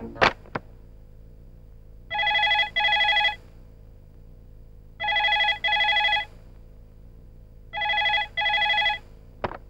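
A telephone rings three times in quick double bursts, each pair of bright electronic trills separated by a few seconds of quiet. The ringing is close and clear, with a brief knock at the start.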